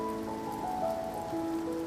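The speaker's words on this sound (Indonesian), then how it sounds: "hujan lagi." Steady rain falling on a surface, a soft continuous patter with faint tonal music underneath, no talk.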